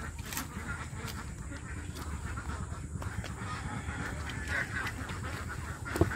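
Several ducks quack in a rural farmyard, the calls faint and scattered across a steady background hum, with one sharper call near the end.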